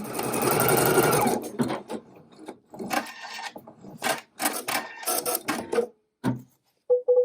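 Kimberbell embroidery machine running a placement stitch for a pink leather sign, a dense, steady mechanical buzz of rapid needle strokes for about a second, then speech with brief pauses.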